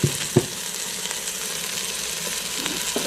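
Salsa and chicken being stirred in an Instant Pot, a soft continuous sizzle-like hiss with a couple of brief spoon knocks at the start and end.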